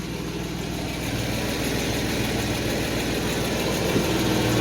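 A 1991 Mercedes 190E idles steadily with the rear exhaust section disconnected, giving a loud, even, rumbling drone with no speech.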